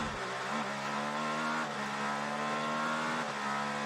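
An Acura ARX-06 GTP prototype races at Mosport, its engine droning loud and steady with rising pitch and quick shifts as it works through traffic into a corner.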